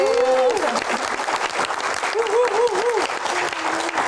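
An audience at a Q&A event applauds to welcome a speaker. The clapping is loud, dense and continuous for the whole stretch, with a voice and tonal sound rising above it.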